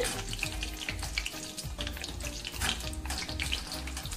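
Cashew pakodi fry in hot oil with a loud, steady, close crackling sizzle that never lets up, and no voices.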